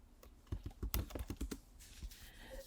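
Keys clatter on a computer keyboard in a quick irregular burst of close, crisp taps, a word being typed into a Cricut design search for leather, with no voices.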